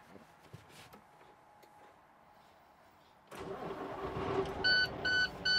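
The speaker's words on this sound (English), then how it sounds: "Now we're in the truck. I'm gonna start the vehicle." A CDL class A tractor truck engine cranks and catches after a quiet interior moment, then settles into a rumbling idle while a few electronic dashboard beeps chime over it.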